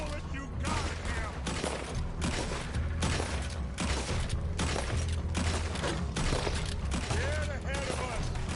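Sustained gunfire in Red Dead Redemption 2, rapid overlapping shots forming a steady loud volley across the whole stretch, with faint voices mixed in.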